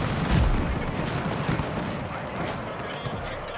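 Four-pounder artillery pieces fire in a Pike & Shot Total War battle, with rumbling cannon booms and battle noise blending into a dense, continuous din, with no single shot standing out clearly.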